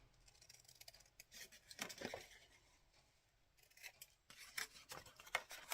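Scissors snip out a corner piece of material during a craft project, a quiet run of close crisp cuts mixed with soft rustling and rubbing of the material.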